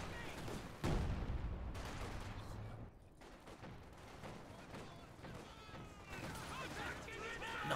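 Gunfire from a Company of Heroes match rattles on steadily in bursts, with fast repeated shots and occasional heavier booms, running beneath continuous excited commentary from a caster.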